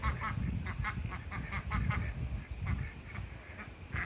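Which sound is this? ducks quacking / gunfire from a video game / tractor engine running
ducks quacking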